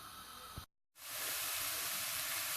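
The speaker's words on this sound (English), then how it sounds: "sizzling away nicely" Chopped vegetables hitting a hot frying pan for a vegan meal, a short lull, then a loud, steady, close sizzle that continues without pause.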